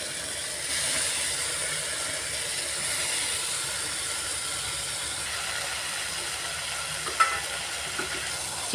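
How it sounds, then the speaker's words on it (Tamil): Chicken for a Tamil-style chicken kulambu fries with softened tomatoes in a pan, making a continuous even hiss with only a few faint stirring clicks near the end. No voices are present. "சிக்கனை சேர்த்து ஒரு கிளறிக்கலாம்."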